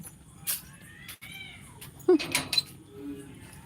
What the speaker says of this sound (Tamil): பூனை குட்டிங்க வந்து ஒரே சண்டை போட்டுக்கிறாங்க